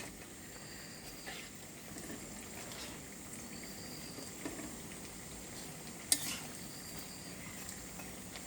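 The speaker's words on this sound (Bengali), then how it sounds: "এটা ভাজতে বেশি সময় লাগে না।" Pumpkin-leaf lentil fritters fry quietly in oil, a faint, even sizzle with a few soft clinks of a utensil and one brief sharper knock.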